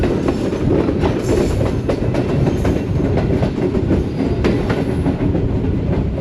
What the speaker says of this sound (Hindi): अब सुपर रफ्तार रेलगार लालामुसा जंक्शन पे अप्रोच कर रही है